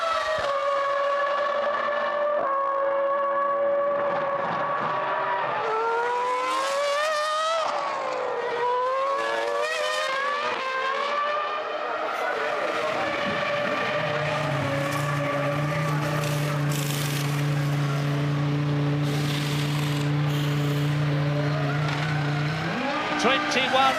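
Formula 1 cars racing at Imola in the 2001 San Marino Grand Prix, engines howling and rising and falling in pitch as they pass, with a steady high whine later, under running commentary.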